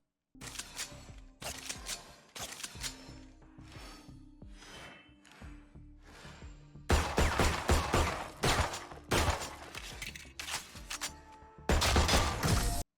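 Gunshots from a Classic pistol skin in Valorant, a video game: several bursts of loud, sharp shots in clusters, with short gaps between them and a heavier, denser stretch of fire near the end, with no talk.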